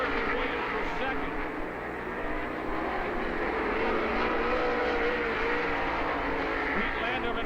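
Sprint car A-main race at Lernerville Speedway in Sarver, PA: a loud, continuous roar of racing engines, steady and dense throughout, with a race announcer's voice over the track noise.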